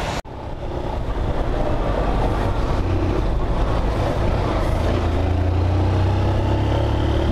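A lightly loaded motorcycle cruises along a road on a long-distance trip, its steady engine drone and wind rush loud and continuous throughout, with no talking.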